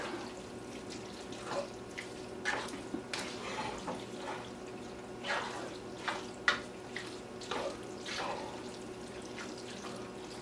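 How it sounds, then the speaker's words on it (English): Water is splashed into a pan of Texas hash made with French onion soup, a steady light running and dripping sound with scattered clinks and splashes, faint and close, with no talk. "And that needs just a little bit of water."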